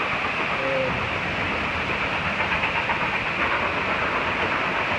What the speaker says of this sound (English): There's a train coming by that comes from Denver to Silverton.